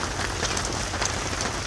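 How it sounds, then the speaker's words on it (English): Steady rain patters on a camp tarp at a traditional archery shoot campsite in Tennessee, a dense, even hiss with scattered nearer drop ticks throughout, no voices. "Been raining since about 5 this morning maybe."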